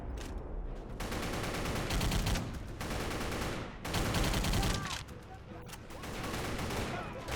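Rapid video-game gunfire rattles in sustained bursts, loud and dense, with brief pauses between volleys as a row of lined-up enemies is mowed down.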